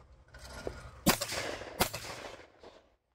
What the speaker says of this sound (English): I'm shooting compact style with gun now.